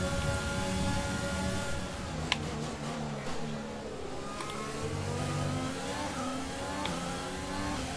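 Formula 1 car engine in the F1 2020 racing game, a steady high-pitched whine with rising and falling gear sweeps as it accelerates, loud and continuous throughout with no talk.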